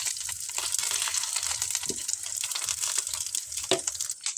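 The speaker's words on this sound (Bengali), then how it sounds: "এবার আমি একটু এখানে অল্প অল্প করে এই ক্যাপসিকামের মধ্যে ডিমগুলো দেবো" Eggs go into hot oil with capsicum in a wok, bringing a continuous loud sizzle with a few scraping stirs and small splashes.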